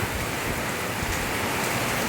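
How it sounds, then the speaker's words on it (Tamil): Heavy rain pours down steadily in a dense, unbroken hiss during a thunder-and-lightning storm, loud and close, with no voices over it. "செம்ம இடி மின்னல் மழை."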